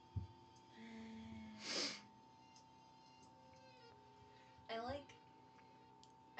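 A single sharp sneeze indoors, quick and fairly close, followed later by a short snort or breath against a quiet room hum, with people talking softly.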